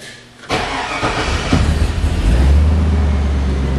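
The engine of a Mercury Monarch turns over and catches after the ignition is switched on, and a loud, steady idle rumble then settles in and holds to the end.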